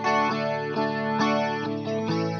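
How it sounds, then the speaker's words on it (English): Clean electric guitar played through a rotating Leslie speaker, with sustained chords swirling and pulsing in a steady warbling rhythm, close and fairly loud with no voices. "It's the Leslie speaker. So that's what you hear with my clean tone."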